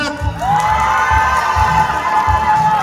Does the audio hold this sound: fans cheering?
yes